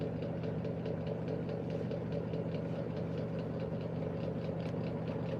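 A fuel-burning heater's engine runs steadily, a low droning hum with a faint regular pulsing throughout and no voices.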